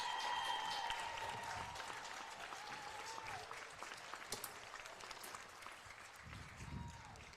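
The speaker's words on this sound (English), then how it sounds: "Ladies and gentlemen, a warm GSW round of applause for head coach" A softball stadium crowd applauds the head coach before a game, steady clapping and some cheers filling the whole stretch at moderate distance, with a faint voice briefly audible.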